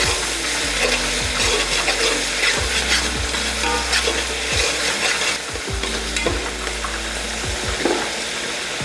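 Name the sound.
ground garlic paste frying in oil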